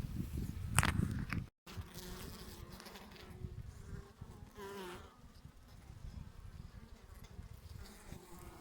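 Steady, dense buzzing of many honey bees clustered outside a crowded hive in midsummer, close by, a continuous drone with a brief rustle near the start and no talking.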